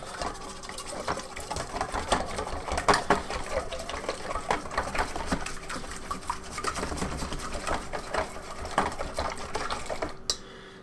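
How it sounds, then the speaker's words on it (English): Eggs and sugar are whisked briefly in a bowl, giving a steady, close rattle of rapid clicks and taps that runs almost without a break. "So I'm going to give this just a little whisk."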